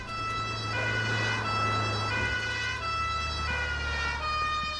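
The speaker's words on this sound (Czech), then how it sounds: "Tady jde sanitka." An ambulance siren in the OMSI 2 bus simulator game wails in a steady repeating cycle, loud and close, over a low traffic and engine rumble, with no voices.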